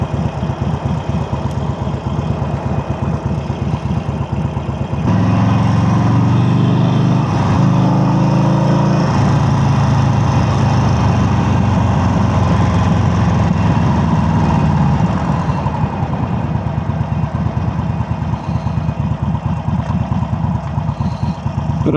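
A motorcycle on a ride gives a continuous engine drone at an even, close level for the whole stretch, with a brief spell of heavier revving near the start and wind noise underneath.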